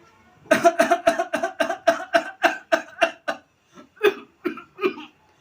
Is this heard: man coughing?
yes